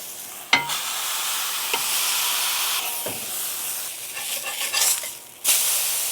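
A smashed pork burger patty, seasoned with steak rub, sears on a hot griddle with a loud, steady close-up sizzle and hiss, broken by a few sharp spatula scrapes.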